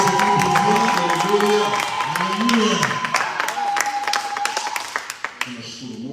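A church congregation claps steadily while cheering and ululating with high wavering cries, and voices call out over the rhythmic clapping.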